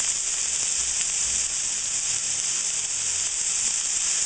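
Potatoes and green onions fry in a pan with a steady, bright sizzle and hiss, continuous and close, with faint stirring clatter underneath and no talking.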